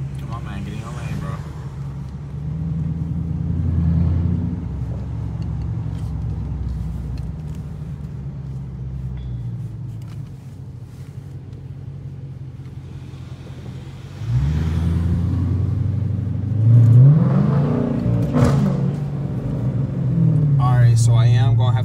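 A Dodge Challenger R/T with a 5.7 engine, running without mufflers or resonators and with a stock intake, rumbles deep and close while driving, swelling as it accelerates with a few sharp pops, under someone talking.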